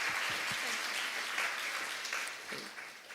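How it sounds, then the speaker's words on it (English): A conference audience at an international development forum gives a steady round of applause, a dense, even wash of clapping from a seated crowd that tapers slightly toward the end. "let's give her a round of applause before she parts"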